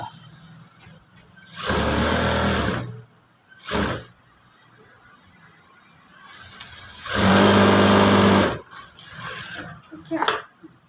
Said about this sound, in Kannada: ಈ ಸೈಡ್ ಡಬಲ್ ಸ್ಟಿಚ್ ಹಾಕ್ಕೋಬೇಕು